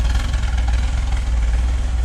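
A 1976 Porsche 912 E with high compression idles nearby, its exhaust putting out a steady, loud low-pitched burble with an even pulsing rhythm and no talk over it.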